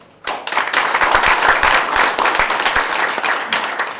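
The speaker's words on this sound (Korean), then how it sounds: "뜨거운 박수를 드립니다." A burst of applause from a crowd at a forum in Daegu, dense clapping starting abruptly and holding steady for a few seconds.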